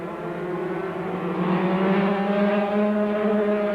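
125cc racing motorcycles scream along a race track at the 1993 Sunflower Trophy, their high engine whine rising steadily in pitch and loudness as they approach and hold close, with no voices.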